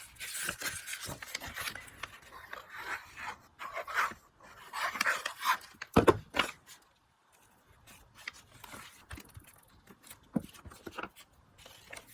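Paper being trimmed for the end page of an Alice in Wonderland envelope book, soft rasping cuts and rustles coming in irregular bursts, quiet and close.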